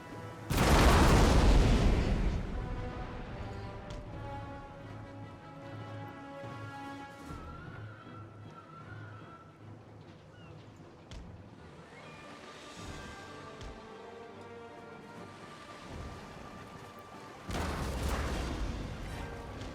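Naval cannon fire in Napoleon Total War: a loud booming barrage opens, settles into a long rumble of battle and sea noise with a musical score, and a second heavy salvo lands near the end.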